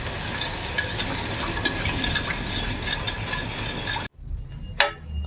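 A pudding mixture is stirred in a pan, a steady scraping and sizzling that runs continuously, close and moderately loud, then cuts off abruptly and gives way to near quiet with one brief clink.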